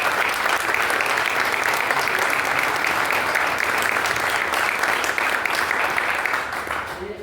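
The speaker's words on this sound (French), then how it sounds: "un grand applaudissement" An audience at an Iberian ham carving championship in France applauds in a dense, sustained roar of clapping. It fades slightly at the very end.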